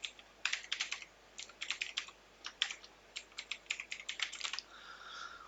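Rapid bursts of keystrokes on a computer keyboard while an email address is typed in, uneven clicking clusters, close and clear with no talking, ending in a brief soft hiss.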